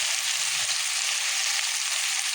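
Potatoes and spinach frying in a pan with onion, turmeric, chili and coriander powder, a loud, dense, unbroken sizzle heard up close and alone.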